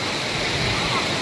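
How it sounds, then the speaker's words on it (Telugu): Ramapuram waterfall near Tirupati flows as a steady, loud broadband roar of rushing water, close and unbroken for the whole moment. "సో ఫైనల్గా మనం వాటర్ ఫాల్స్ దగ్గరికి అయితే వచ్చేసాం"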